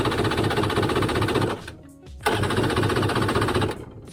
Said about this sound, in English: So new spark plugs, let's try to start it.